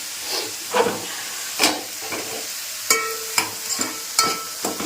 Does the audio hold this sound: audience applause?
no